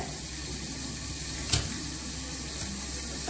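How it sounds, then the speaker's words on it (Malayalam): Fish sizzling steadily in a frying pan for a home-style fish fry, a soft continuous crackle with one brief clatter midway and no voices. "നമ്മൾ ഫിഷ് ഫ്രൈ ആക്കാൻ വെച്ചിട്ടുണ്ട്"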